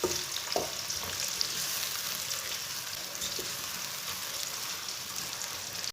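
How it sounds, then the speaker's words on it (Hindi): Steady, fairly quiet sizzling and crackling of chopped onion browning in hot oil, with an occasional stir or scrape, no voices. "प्याज को ना 2-3 मिनट के लिए ब्राउन कर लेंगे।"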